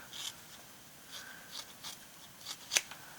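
Scissors cut paper for a mixed media artwork on reversed canvas, giving a few faint, sparse snips close by in a quiet room.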